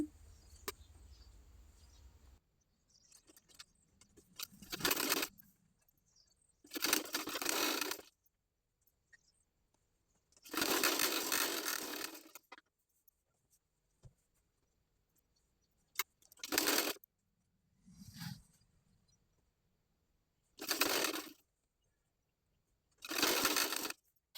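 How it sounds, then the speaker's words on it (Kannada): A sewing machine stitches the side seam of a girl's top in about seven short whirring bursts, each a few seconds long, separated by near-silent pauses, close and clear with no talking. "ಈಗ ಮೇನ್ ಫ್ಯಾಬ್ರಿಕ್ಗೆ ಸೈಡಲ್ಲಿ ಸ್ಟಿಚ್ ಮಾಡ್ಕೊಳ್ಳೋಣ"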